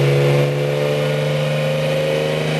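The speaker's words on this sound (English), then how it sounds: "The high-pitched whine of the 12 cylinders thundering together in cacophonous harmony" A Mercedes-AMG M120 V12 engine, 600 horsepower, runs with a steady, loud high-pitched whine over a deep drone, holding near-constant revs throughout the short stretch.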